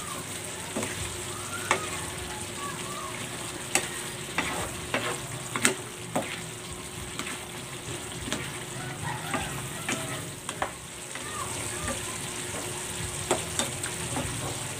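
Green chilies and bird's eye chilies fry in a pan of coconut-milk string beans and squash with dried daing, giving a soft steady sizzle broken by repeated light scraping and clacking stir strokes.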